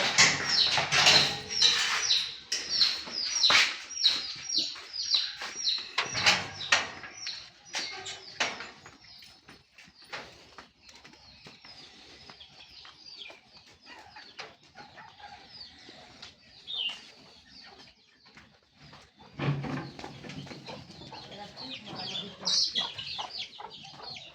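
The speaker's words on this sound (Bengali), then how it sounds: "আমার আরো বড় বড় মুরগি আছে, এগুলোকে ছেড়ে দিব" Chickens being let loose flap their wings loudly and cluck in a burst of close, busy activity, which settles into quieter scattered clucks and scratching before a second round of flapping near the end.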